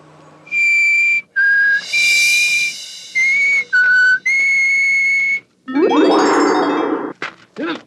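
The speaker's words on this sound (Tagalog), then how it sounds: "kailangan natin sumipol" A person whistles a series of sustained, clear notes, pausing between them, then a breathy rushing sweep and a few sharp bursts close up.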